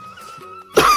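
A sudden, loud cough or throat-clearing near the end follows a quieter stretch of faint background hum.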